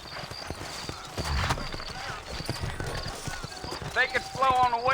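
Horse hooves clip-clop steadily beneath a voice speaking, with a horse neighing toward the end, in the video game Red Dead Redemption.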